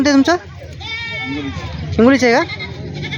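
Goats bleating at the Hingoli goat market, two close, loud wavering bleats separated by a pause, with someone talking faintly between them.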